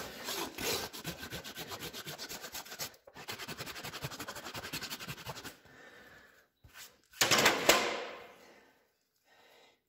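A farrier works a rasp across a horse's hoof while preparing a hot shoe, giving steady rough scraping strokes that run close and loud, then pause, then return in a short, sharp burst.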